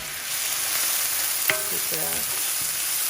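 Onions sizzling in olive oil in a pan for beef soup, a steady close frying hiss with a few brief stirring scrapes partway through.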